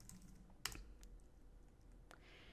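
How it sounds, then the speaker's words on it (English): Typing on a computer keyboard while coding in Visual Studio 2019: a few sparse, faint key clicks with one sharper tap, heard alone in a quiet room. "why do I keep typing out things in comments?"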